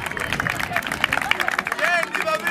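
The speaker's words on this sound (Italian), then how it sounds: "ragazzi, dai un applauso se lo merita." Audience applause breaks out at a Paralympic sports day event in Crispiano, with scattered clapping under crowd chatter and voices throughout.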